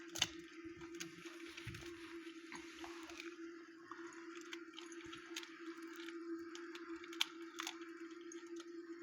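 A pet, born in 2011, chews its afternoon snack while being hand-fed. Soft, wet squishing and crunching bites repeat steadily over a constant low hum, with a few sharper clicks and no talking.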